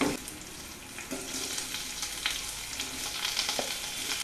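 Onions sizzling in a pan with garlic and green chilli for a ladies finger curry, a steady bright frying hiss with occasional stirring scrapes and soft crackles, close and continuous with no voices.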